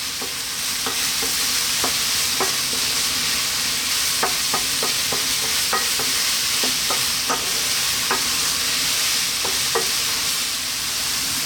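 Spices fry in a pan with a constant hiss while a utensil scrapes and taps the pan in quick, irregular strokes, close by and with no voices.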